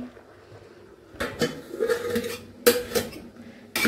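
Malabar spinach being stirred in a pot, heard as a few bursts of metal scraping and clinking from a spoon against the pot, with quiet pauses between them.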